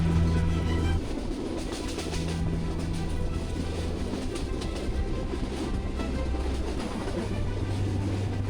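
A crowded passenger train on the way to Sreemangal in Sylhet roars loudly and steadily at the open carriage door, with a low rumble and rattling wheels running through the whole stretch.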